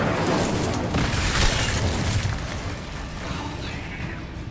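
A Bombarda spell explodes in Hogwarts Legacy with a loud, broad burst that swells and then fades into a rumbling decay.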